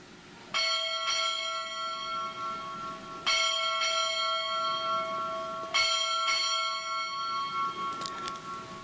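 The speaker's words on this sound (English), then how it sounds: "Time orderly, strike 6 bells." Six bright strokes of a ship's bell sound in three evenly spaced pairs at a US Navy change of command ceremony, each ringing out and lingering before the next pair.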